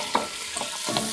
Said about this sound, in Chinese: 锅热加油，姜蒜爆香， 下入白虾，